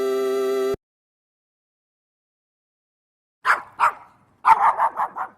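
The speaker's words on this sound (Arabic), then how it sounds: "كلب." A dog barks twice, pauses, then lets out a quicker burst of five barks, close and fairly loud, after a short chime and a stretch of silence.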